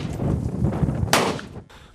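Gunfire at a practical shooting competition, a single sharp, loud shot cracking out partway through over a noisy, rumbling outdoor background.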